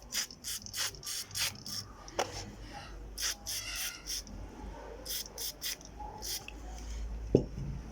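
Brush scrubbing parts of an Axial SCX10 RC car during cleaning, short close bristly strokes repeating in quick bursts with pauses, plus a light knock near the end.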